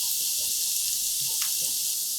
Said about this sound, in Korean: 다진 마늘 넣고 볶아 풍미를 끌어올리고